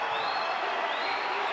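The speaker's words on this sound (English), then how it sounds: "And now the home crowd getting into this one now." Home crowd at a FIBA World Cup 2023 qualifier basketball game between Argentina and Panama, a steady wash of cheering and noise from a large arena audience.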